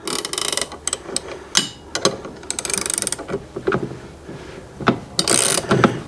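A lock nut is tightened onto a jockey wheel with a ratcheting tool, giving close, loud bursts of rapid clicking that stop and start in short runs, with no voices.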